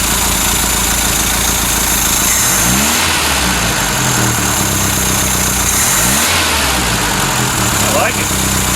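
A Ford Capri MKI engine runs loudly and steadily close by, with two rising revs around the third and sixth seconds over a continuous idle rumble.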